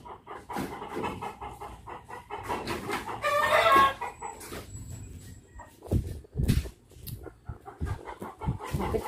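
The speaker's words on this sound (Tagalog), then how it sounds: "Nabuang ng mga manok." Chickens cluck and squawk nearby in short irregular bursts, with a dog panting and other farmyard noises mixed in.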